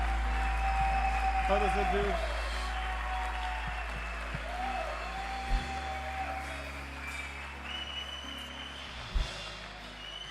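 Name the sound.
church congregation applause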